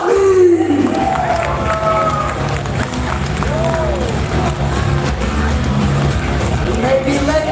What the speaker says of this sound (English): Make some noise for Johan JoJo Ghazali.